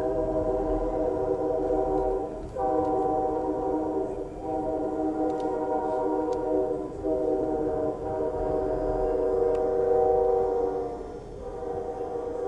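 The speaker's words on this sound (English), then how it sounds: "So there's the train cars that take the rice away." Freight train cars that haul rice roll past in Crowley, Louisiana, a steady rumble with a low tonal drone and periodic dips as each car passes, sustained and fairly close.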